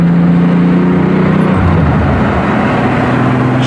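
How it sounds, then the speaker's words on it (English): A 1990s car being driven, its engine droning steadily and loudly from inside the cabin, with the pitch dropping midway as it changes gear, no speech heard. "Car shifts smoothly through the gears."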